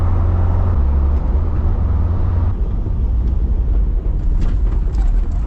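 A Toyota AE86, once abandoned and being revived, drives along with a steady, loud engine drone and road rumble that holds throughout without a break.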